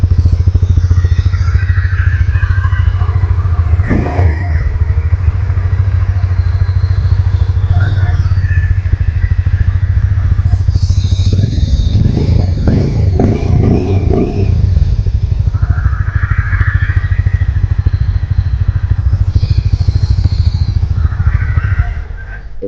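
A Hero Mavrick 440 motorcycle idles and is blipped, its exhaust note a steady, loud, close rumble with a few short revs rising over it and no talking.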